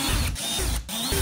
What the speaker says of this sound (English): we need to drill some holes in the corners